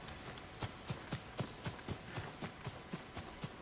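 Horse hooves clip-clopping in the video game Ghost of Tsushima, about a dozen evenly spaced thuds in a steady trotting rhythm over faint ambient background, close and clear.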